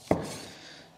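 A single crisp knife cut through cold beef against the grain on a board, one sharp close stroke followed by a short fading scrape, with no talk.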